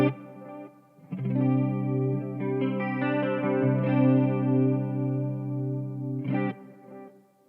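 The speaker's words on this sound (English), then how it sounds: "Let's put some reverb in there. We'll put some chorus in there" Clean electric guitar played through a Marshall MG50CFX amp with reverb, chorus and delay: a sustained chord ringing out with shimmering, swirling modulation and echo tails, then a second strummed chord at the end, no voices.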